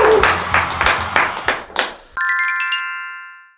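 A short burst of clapping greets a fried pork cutlet (donkatsu) restaurant advancing to the final of a Gimhae food-tournament show, quickly cut off by a bright electronic chime that rings out and fades.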